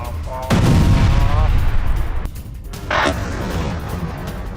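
A loud building explosion booms at once during an Iranian attack in Iraq, followed by sustained rumbling and a second crack moments later, with a crow cawing faintly at the start.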